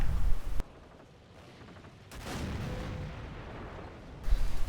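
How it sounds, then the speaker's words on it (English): Artillery indirect fire and grenade blasts in a WWII strategy video game, heard as a loud impact at the start, a lull, then a sustained rumbling barrage with another burst of explosions at the end. "Axe is just getting hammered by indirect fire. 80 grenades going down on the Easy 8."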